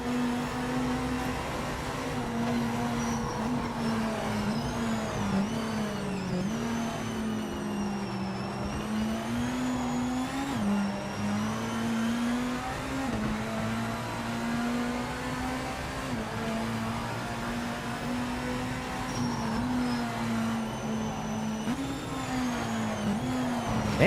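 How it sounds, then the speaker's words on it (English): GT race cars in Project Motor Racing, a continuous engine drone that rises and falls through gear changes and corners, loud and steady throughout. "Damn those GTs haul ass."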